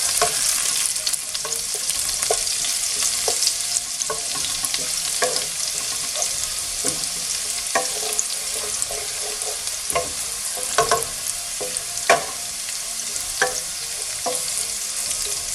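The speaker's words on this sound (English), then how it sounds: "I'm gonna let the garlic to get brown about less than half a minute." Garlic sizzles steadily in hot oil over medium heat for Bengali-style doogi with dry fish, a dense continuous hiss broken by occasional soft clicks and spatters, close and without voices.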